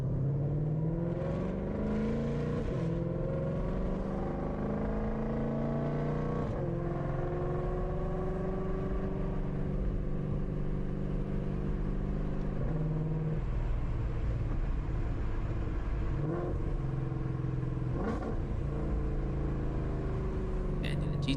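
A 1400-horsepower Shelby GT500 Mustang growls through traffic with a deep, continuous engine rumble that rises in pitch through several upshifts, loud and near, while someone talks over it.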